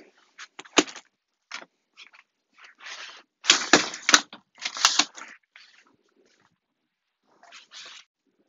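A 2021 Moon Style baby stroller with a light aluminium frame folds together with its seat unit, giving scattered clicks, snaps and plastic-and-metal clatter in short bursts between quiet pauses.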